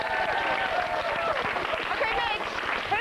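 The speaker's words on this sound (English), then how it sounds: "Good luck with the budget. Round of applause." Studio audience applause on a 1998 live Saturday-morning children's TV show: steady, sustained clapping from a crowd, moderately loud and even throughout, with some music or voices mixed underneath.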